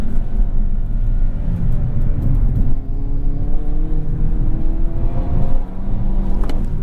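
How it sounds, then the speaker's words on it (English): 2022 Hyundai Kona N engine humming under load on the road, its note rising and shifting through gear changes against steady road and wind noise from inside the cabin. "I'm actually enjoying driving the car."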